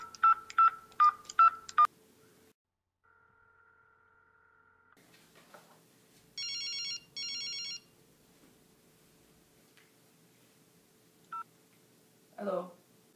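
A telephone is dialed with a quick run of touch-tone beeps, followed by a long dial tone, then two bursts of electronic ringing before a brief clatter as the handset is picked up.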